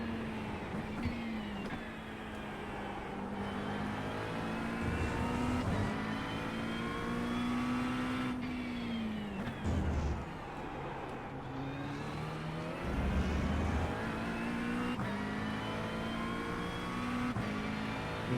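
GT3 and GTP race cars running side by side through the Porsche curves in iRacing, engines droning and shifting pitch as they rev and upshift, a loud continuous whine close by.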